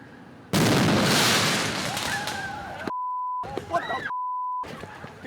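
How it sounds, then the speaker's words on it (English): Fireworks shot at police in Dinkytown on the Fourth of July go off in one sudden loud blast that decays into crackling. Short electronic beep tones and brief chatter follow. "We got some brand new video to show you from the scene where fireworks were shot at police."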